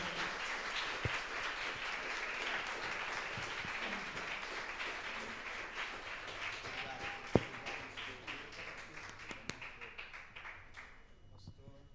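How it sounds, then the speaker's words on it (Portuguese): A church congregation claps hard during a worship service, a broad continuous wash of applause with a few sharp claps standing out, thinning and fading near the end. "aplauda bem forte ao Senhor"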